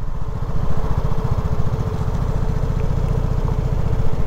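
A motorcycle with a 3-valve engine runs close by, a loud, steady rapid throbbing note with a fast even pulse and little change in pitch, and no voices.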